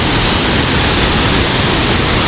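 Continuous heavy roar of a waterfall pouring into a greenish, murky pool, loud and steady throughout without any talk.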